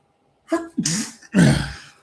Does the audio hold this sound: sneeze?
yes